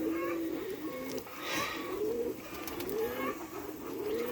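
Pigeons coo softly and repeatedly around bath water in extreme summer heat, low rolling calls close by over a light background hiss.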